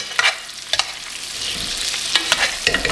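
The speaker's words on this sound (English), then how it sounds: "Trying to infuse the air into the melted brown butter" Rib eye steak searing in a pan and basted with melted brown butter: a loud, close hiss of sizzling fat with a few sharp spoon or pan clinks scattered through, no voices.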